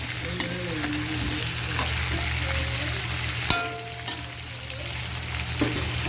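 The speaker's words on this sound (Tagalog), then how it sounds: "ilalagay na natin ang ating hipon. Pumalpit na naman ang mantika." Shrimp fry in hot cooking oil, giving a steady, close sizzle with a few brief clinks and stirring sounds, and nobody talking.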